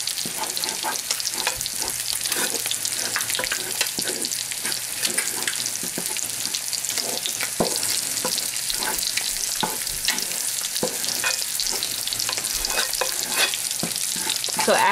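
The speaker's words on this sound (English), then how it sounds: "And I'm going to stir this up till I get a yellow powdery texture." A child cook stirs a mixture in a sizzling pan until it turns yellow and powdery. Constant frying crackle plays under repeated scraping strokes at a fairly even pace.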